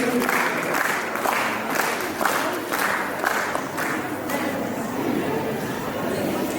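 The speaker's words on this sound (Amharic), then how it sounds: "ሞቅ ባለ ጭብጨባ እንዲቀበሉልኝ ጠይቄ" A large audience at a Miss International Ethiopia 2024 hotel gala applauds warmly as the CEO is called to the stage, a steady wash of clapping with crowd murmur and cheers throughout.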